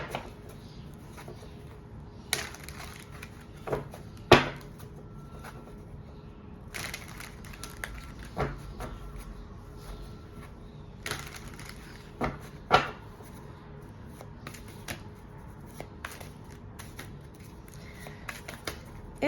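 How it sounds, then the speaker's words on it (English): A deck of tarot cards is shuffled in short crisp bursts of riffling and tapping, spaced every few seconds with quiet handling between, close and fairly soft. "Let me just give these a good shuffle."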